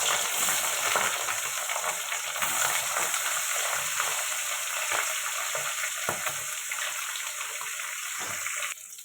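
Fish coated in turmeric and salt sizzles steadily in hot oil in a pan, a dense continuous crackle with occasional sharper pops and a few stirring scrapes, close and fairly loud with no voices.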